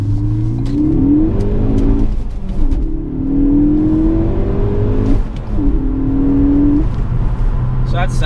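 A Ford Focus ST accelerates hard on the road, its engine note climbing loudly through several gear pulls. Short breaks between the rising whines mark the shifts, and the last pull builds toward 70 mph.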